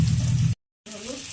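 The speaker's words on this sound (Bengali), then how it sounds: "মাছ ভাজার তেলে দুটো শুকনো লঙ্কা দিলাম, একটু জিরে ফোড়ন দিলাম, আর কাঁকরোলটা দিয়ে দেবো" Boiled teasel gourd goes into hot fish-frying oil with two dried chillies and cumin, setting off a loud, dense sizzle that cuts out briefly and then resumes, crackling steadily.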